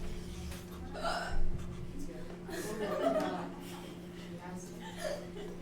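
A student in a geometry classroom hiccups several times amid chuckles and background talk, against a steady low hum from the room.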